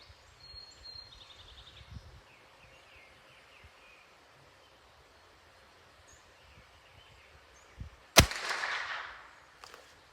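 A rifle fires a single loud, sharp shot in a shooting challenge, with a sudden crack and a short rolling echo after quiet outdoor rustling and faint birds.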